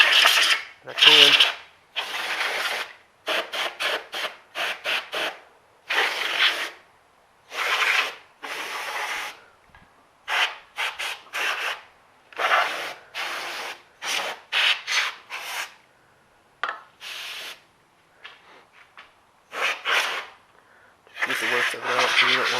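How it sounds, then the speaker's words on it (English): Canned compressed air hisses in many short, close bursts of varying length while cleaning a dirty air box on a 2007 ZZR600 motorcycle, with quiet gaps between sprays. "that's just some computer sprayer dust stuff"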